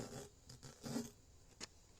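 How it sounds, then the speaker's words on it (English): A knife with a sharpened edge slicing through a steel-belted tire makes a few short raspy, zipper-like strokes, fairly faint and close, with one sharper scrape near the end. "I love that zipper sound cutting through that steel belted tire right there"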